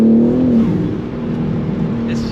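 A BMW M3 fitted with a BMS intake revs and pulls hard from inside the cabin, a loud droning engine note rising and holding steady, with voices talking over it.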